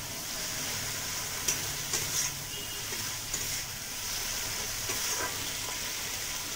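Chili and turmeric powder frying in hot oil for an egg curry, a steady close hiss and sizzle with a few soft scraping stirs from a spatula.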